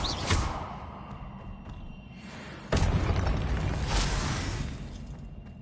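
Spells Confringo and Incendio cast in Hogwarts Legacy, heard as two sharp blasts with whooshing bursts, the second louder and sustained into a rumbling roar.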